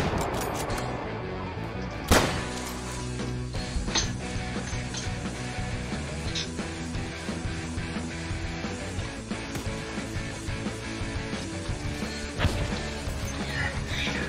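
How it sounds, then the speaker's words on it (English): Rapid gunfire from a multiplayer shooter game fills the scene, dense overlapping shots with one sharp loud report early on and another later, over a constant busy battle din. "I'm being shot from somewhere."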